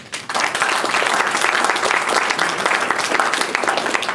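Steady, dense applause from a crowd at a Startup Grind OKC evening event greeting a speaker, loud and close, holding evenly for several seconds with no one speaking over it.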